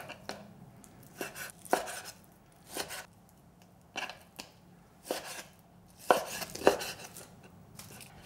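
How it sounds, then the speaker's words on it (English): A knife chops through an 8-ounce chicken breast on a board, cutting it into cubes, with sharp irregular thuds landing in quick clusters and pauses between them, close and fairly loud. "And I'm going to cut this into cubes."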